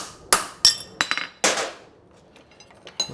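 A fullered stamp is hammered on a horseshoe at the forge while making a French hind shoe. Several bright metallic ringing blows come in an uneven rhythm, close and clear, then taper to softer taps.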